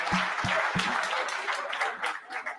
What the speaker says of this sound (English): Thank you very much. A big hand.